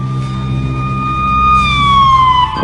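Ambulance siren wailing close and loud, a sustained tone that bends downward in pitch as the vehicle passes.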